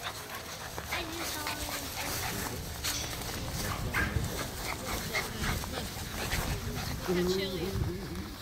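Young puppies pant and whimper close by, with small yips mixed into a busy, continuous background, while people talk over them.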